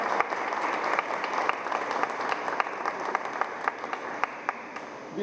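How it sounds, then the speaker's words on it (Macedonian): An audience in a hall gives sustained applause for finalists at a literary translation award ceremony, steady dense clapping with a few sharper individual claps standing out. "Би сакал прво да почнеме со еден аплауз"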